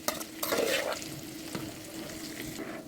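Soaked basmati rice stirred in boiling water for chicken biryani, heard as close, continuous bubbling and swishing with a surge of stirring near the start and lighter scraping strokes afterward.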